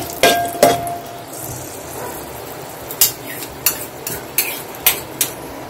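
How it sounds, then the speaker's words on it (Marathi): Whole cloves and cinnamon are fried in ghee in a pan, with a soft background sizzle broken by a series of sharp metal spoon clinks and scrapes against the vessel as they are stirred. "आता त्याच तुपामध्ये मी आपला अख्खा मसाला घालून घेते."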